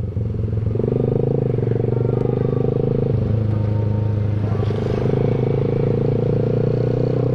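Loud, close motorcycle engine droning steadily while riding along a road, with shifting tones as it throttles up and down throughout.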